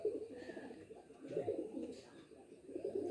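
Madras high-flying pigeon giving soft repeated coos, three low rolling phrases close by at low volume, with a faint voice in the background.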